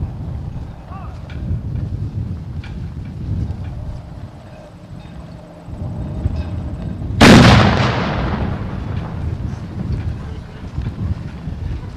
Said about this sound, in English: Firing of the cannon will signal the start of today's ceremony